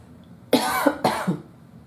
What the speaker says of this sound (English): I've been coughing like that all day.